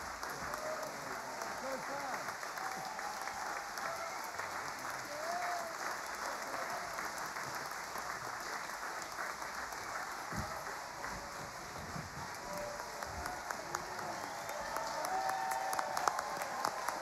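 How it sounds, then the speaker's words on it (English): Sustained audience applause at an outdoor opera concert in the park in Nelson, New Zealand, honoring the singers and the New Zealand Symphony Orchestra; a broad, continuous clapping wash with scattered voices and a slight swell near the end. "Give them one more big round of applause and the New Zealand Symphony Orchestra."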